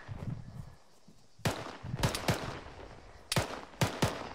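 Sharp rifle shots ring out at an army infantry training range, a handful of loud, separate cracks in uneven bursts with short gaps between them, fired close by over a low background murmur.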